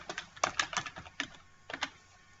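Quick, close keystrokes tap on a computer keyboard in a short burst of clicks with brief pauses, typing a line of text in a quiet room.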